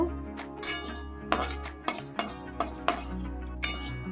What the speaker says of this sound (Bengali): প্রথমে ডালটা একটু ভেজে নেব হালকা করে ভেজে নেব